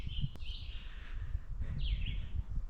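A few soft bird calls, thin whistled notes rising and falling, sound over a low outdoor rumble while fishing and hiking in northern Michigan.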